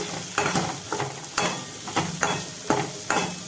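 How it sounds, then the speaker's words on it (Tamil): Sambar powder masala is stirred in a pan, with steady scraping strokes roughly every half second over a soft, continuous sizzle, close and fairly quiet. "இது அப்படியே கிளறி கிளறி விட்டு"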